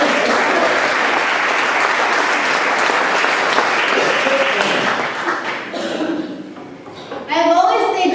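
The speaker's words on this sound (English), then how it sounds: "Please give my parents a round of applause." Dense, loud audience applause fills a keynote speech hall, sustained for several seconds before thinning out, then a speaker's voice comes back in.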